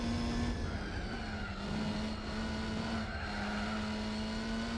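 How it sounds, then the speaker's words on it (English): A Mazda MX-5 engine in the video game Gran Turismo 4 holds a steady drone at constant revs, with a faint rushing tire and road noise underneath and no pauses. "that sounds like a pretty fun MX-5"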